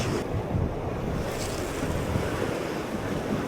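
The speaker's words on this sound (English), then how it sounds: "these waves are kind of coming real close." Rough ocean waves surge in close to a shore used for fishing, a loud continuous wash of surf mixed with strong wind buffeting the microphone.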